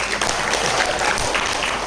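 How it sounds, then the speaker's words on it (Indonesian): Participants at a corporate training session applaud in a short, dense, steady wash of clapping that fills the room evenly throughout. "boleh tepuk tangan dulu yang di depan"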